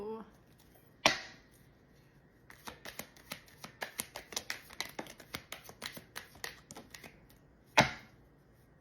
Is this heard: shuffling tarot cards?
yes